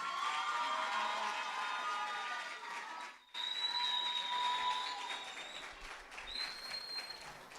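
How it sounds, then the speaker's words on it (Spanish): Audience at a youth singing contest semifinal applauds and cheers, a sustained wash of clapping with shouts and whistles, heard from a distance; it dips briefly and then resumes. "para recibir nosotros con un fuerte aplauso a Candelaria Pereira"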